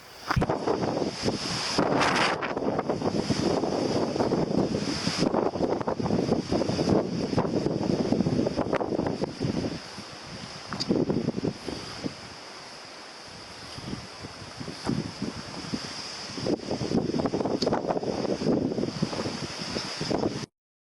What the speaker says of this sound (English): Man, I hope y'all can hear me for the wind.